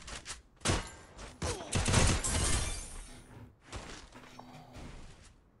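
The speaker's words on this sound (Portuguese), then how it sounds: "Tinha gente trocando tiro aqui, galera." Gunfire exchanged in a video game: bursts of rapid shots and sharp cracks, loud and close, with short pauses between volleys.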